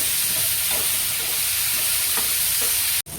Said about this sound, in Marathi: दोन मिनिटं परतून घ्यायचं याला